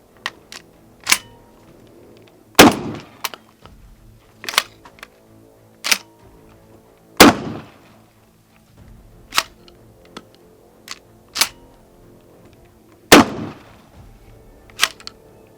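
A semi-automatic pump-action shotgun fires Fiocchi 24 gram low-brass shells. Three loud, sharp reports ring out several seconds apart, with lighter mechanical clicks and clatter between them and no talking.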